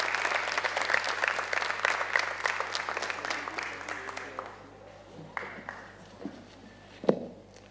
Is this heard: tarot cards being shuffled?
no